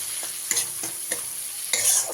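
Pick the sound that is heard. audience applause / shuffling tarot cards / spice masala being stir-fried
spice masala being stir-fried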